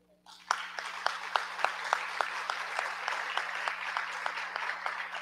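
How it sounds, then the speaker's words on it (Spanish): Audience applause at a book presentation during a book fair, a steady wash of clapping with a few sharper, louder claps standing out in a regular rhythm, moderately close and continuing for several seconds. "Yo acompaño a su padre en el aplauso."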